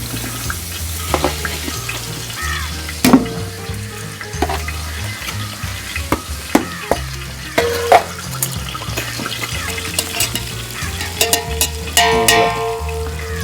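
Rice is stirred and fried in ghee in a pot for mandi, with a loud, close sizzle and repeated scraping clicks and knocks of a spoon against the pan; no one speaks.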